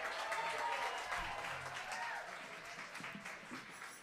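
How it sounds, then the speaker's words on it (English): An audience applauds at a performance, steady clapping that holds strong then gradually thins and softens, heard at a moderate distance with a faint voice underneath. "Keep on clapping."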